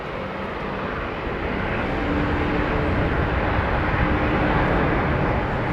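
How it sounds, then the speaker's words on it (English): Airbus A350 departing Heathrow Airport, a broad, steady jet roar that swells gradually louder over several seconds, heard from a distance with no talk. "Intersecting departure for this 350"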